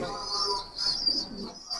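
A pigeon held in the hands gives short, close cooing calls, fairly loud and alone, in a couple of brief bursts.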